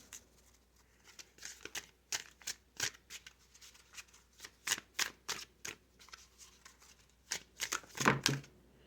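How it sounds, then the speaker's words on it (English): Oracle card deck shuffled by hand in a series of quick riffling bursts, crisp papery snaps repeating irregularly, ending in a louder flurry near the close. "All right, we'll do a quick shuffle."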